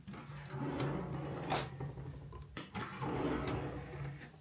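Drawers in a Port Orleans French Quarter hotel room slide open and shut in a few wooden scrapes and knocks. The sounds are close and moderately loud over room noise, with a sharp bump in the middle.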